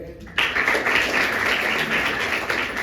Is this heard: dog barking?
no